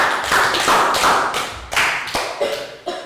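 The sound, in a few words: class applause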